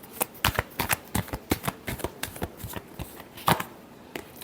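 Tarot cards being riffled and shuffled in a Cancer love reading, a rapid run of crisp, close card flicks in quick bursts with brief pauses between them.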